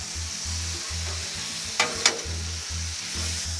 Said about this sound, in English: Give the steak a good stirring.